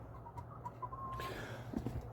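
Backyard chickens, Leghorns and a Rhode Island Red, giving soft clucks and a short drawn-out call, faint and fairly quiet over low outdoor hum.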